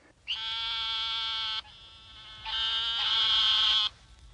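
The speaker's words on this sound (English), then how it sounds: "The narrow-mouthed toad sounds like a sheep." A narrow-mouthed toad calls in two long, nasal, sheep-like bleats, close and loud, with a short quieter stretch between them and no talking.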